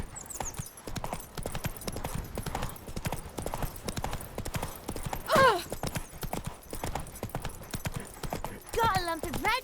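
Roach's hooves in The Witcher 3 beat a steady clip-clop at close range all the way through, with a couple of short whinnies.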